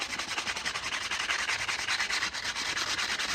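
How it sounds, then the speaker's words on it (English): Steady, close hand sanding of a wooden fishing lure with 120-grit paper: continuous scratchy rubbing strokes, repeating in a quick back-and-forth rhythm with no talking. "I'm just sanding it down a little bit at the moment."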